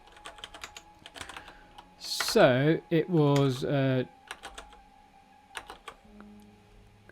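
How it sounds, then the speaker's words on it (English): Fingers tap quick, clustered keystrokes on a computer keyboard at close range during coding, in irregular bursts, with a brief stretch of speech in the middle. "My keyboard's going a bit mental."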